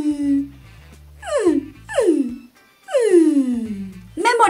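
A human voice imitates a sad, crying puppy with creaky vocal fry: several descending whimpering wails, each sliding downward from a high pitch, separated by short pauses, over faint background music.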